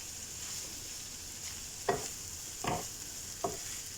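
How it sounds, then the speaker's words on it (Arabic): Chicken filling with parsley and coriander is stirred in a pan, giving three distinct scraping strokes spaced about a second apart over a faint, steady sizzle. "راح حركهم واخلطهم كتير منيح لحتى يتداخل البقدونس والكزبرة بلحم الدجاج"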